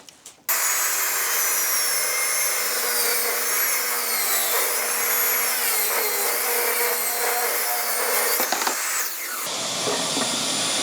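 A power saw rips through wood with a loud, continuous whine that wavers as the blade bites. It starts abruptly, runs for several seconds close by, then drops in pitch and winds down.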